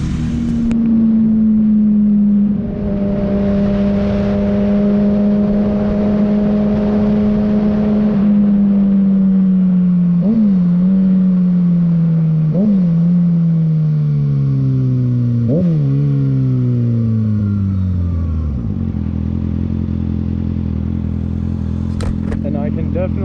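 A 2022 Kawasaki ZX6R with a flashed ECU runs on a two-wheel dyno, its engine droning loud and close for a long pull. The pitch slides steadily lower with a few brief blips, then settles to a lower idle-like tone.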